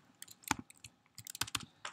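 Someone types on a computer keyboard while writing code in a programming lecture. The keystrokes come as quiet, close, irregular clicks in short bursts, with no talking.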